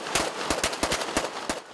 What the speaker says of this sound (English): The celebratory gunfire continued for another night in the capital, Tripoli.